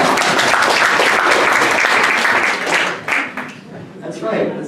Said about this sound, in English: Yeah, clap for it.